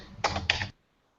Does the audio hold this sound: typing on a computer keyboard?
yes